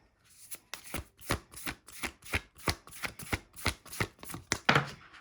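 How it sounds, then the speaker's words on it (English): Tarot cards being shuffled by hand in a quick, regular series of riffling bursts, close and fairly quiet, with no talking. "Just give me a good shuffle."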